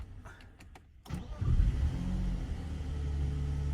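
A BMW E46 starting after a camshaft position sensor replacement: a brief, quiet starter whir, then the engine catches and settles into a steady, close, low idle rumble.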